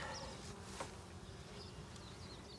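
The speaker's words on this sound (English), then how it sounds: "Lots of bees, lots of bees." A dense, steady buzz of many honeybees at a hive being split for swarm control fills the air throughout, a continuous droning swarm with faint higher insect whines drifting over it.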